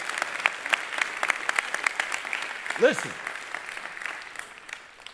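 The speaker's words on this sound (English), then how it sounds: "can I get a little round of applause for Pastor Jay?" Chapel audience breaks into a round of applause, a lively patter of many hands that continues while someone speaks over it and then gradually thins out.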